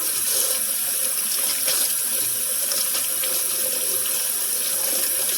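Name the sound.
water running from kitchen faucet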